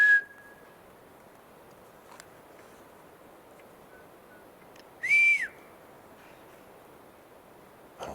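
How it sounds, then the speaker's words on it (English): Two distinct whistles sound in an otherwise quiet forest: a brief flat tone at the start, then a louder, rising-and-falling whistle a few seconds later. "Whistle."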